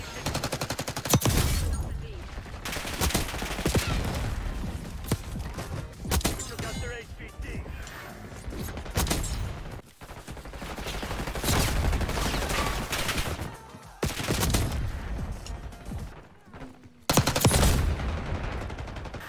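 Heavy gunfire from Black Ops 6 multiplayer combat, dense bursts and volleys of shots rattling almost continuously over nearly twenty seconds, loud and close, with brief lulls between exchanges.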